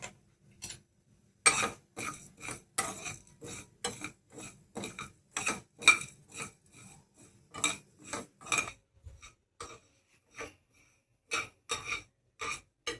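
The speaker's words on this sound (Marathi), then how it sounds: "जिरं, बडीशेप आणि त्याच्यानंतर काळी मिरी, याला अगदी थोडंसं आपल्याला स्लाइट भाजून घ्यायचंय।" Cumin seeds, fennel and black pepper being dry roasted in a pan, heard as a long run of sharp clinks and scrapes from a spoon against metal, irregular and close, with short quiet gaps and no talking.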